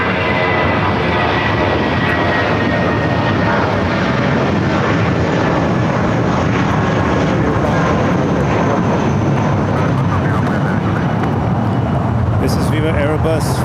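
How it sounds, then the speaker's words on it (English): A Viva Aerobus Airbus A320 jet at LAX produces a loud, steady engine roar with a thin high whine running through it, sustained and close throughout, with a brief sharper burst near the end. "This is Viva Airbus Flight 511 going to Guadalajara. Airbus A320, 8 years old."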